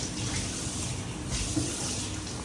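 A steady, close watery rush, like liquid being poured, runs unbroken as more broth goes into a mustard hilsa fish curry.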